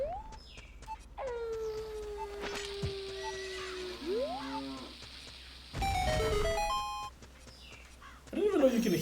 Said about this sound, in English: I didn't even know you can hear cows when they're in grottos.